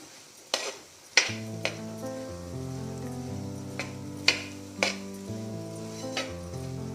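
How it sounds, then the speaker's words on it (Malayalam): A spoon stirs rice and vegetables together in a pot for veg biryani, giving several sharp scraping knocks against the metal at uneven intervals over steady background music. "റൈസ് ചേർത്തതിന് ശേഷം ഒരല്പസമയം വെജിറ്റബിൾസും റൈസും കൂടി ഒന്ന് ഇളക്കി യോജിപ്പിക്കണം"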